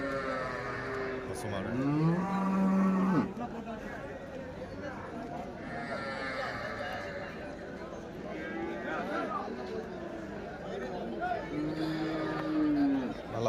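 Cattle and bulls low at a village cattle market in Vaniyambadi, with several drawn-out moos rising at different moments while someone talks over the busy outdoor crowd noise.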